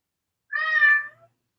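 A single cat meow, clear and close, lasting about half a second in an otherwise quiet room.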